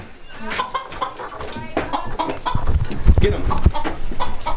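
A rooster clucks and squawks in short, agitated bursts close by on a homestead in Idaho, with scuffling and a person speaking briefly over it.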